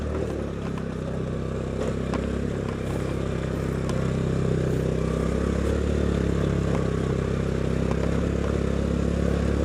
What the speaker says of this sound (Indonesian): motor saya udah enggak kuat